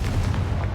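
A Confringo fire spell exploding in Hogwarts Legacy, a short, loud burst with a booming low rumble and crackling fire.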